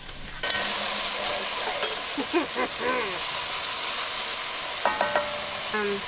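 Onions sautéing in a skillet give a steady broadband sizzle throughout, with a few brief voiced sounds and short tonal clatters over it.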